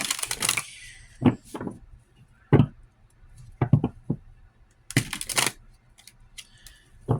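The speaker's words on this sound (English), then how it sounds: "sure I shuffle the deck good before doing this." A tarot card deck is shuffled by hand, producing scattered crisp clicks and riffling snaps in short irregular bursts, close and alone.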